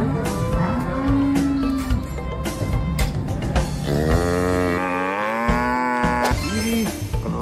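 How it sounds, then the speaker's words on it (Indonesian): A cow, shown among toys being unboxed, lets out several close, loud moos, one long drawn-out call after another with short gaps between them. "ternyata di sini ada seekor sapi"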